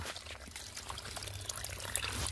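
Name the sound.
water flowing from a spring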